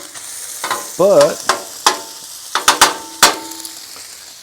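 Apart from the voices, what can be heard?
cabbage and sausage frying on a Blackstone griddle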